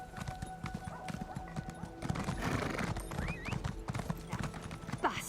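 Horse hooves clip-clop steadily in Elder Scrolls Online, a game horse moving at a walking rhythm, with a whinny near the end and someone talking over the footsteps.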